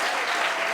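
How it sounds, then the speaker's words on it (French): A brief burst of dense audience applause at a ceremony marking an anniversary in office, continuous and fairly loud with no talk over it. "Applaudissez pour vous-même."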